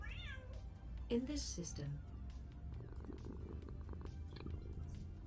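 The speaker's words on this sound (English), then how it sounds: "Apparently there's a cat in this system." Cat meowing and purring in a space video game, a brief meow early on followed by soft low purring under speech and faint game sounds.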